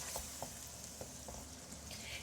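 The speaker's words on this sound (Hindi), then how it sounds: "चनों को मिक्स करेंगे और 1 से 2 मिनट के लिए इनको भूनेंगे मसालों में।" Chickpeas roast in spices for Lahori-style cholay, giving a soft, even sizzle with a few light spoon taps and stirring scrapes, fairly quiet and close throughout.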